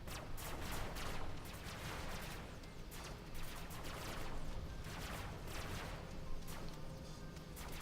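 Gunfire from robot vehicles in the battle game Robocraft, a steady barrage of rapid overlapping shots with sharp repeated bursts running throughout, fairly quiet and without voices.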